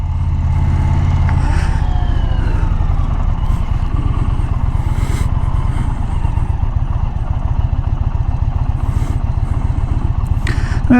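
Indian Challenger motorcycle being ridden on the road, a loud, steady throbbing engine drone with a fast pulsing beat and wind rush, close and continuous throughout, with a brief rise in revs near the start.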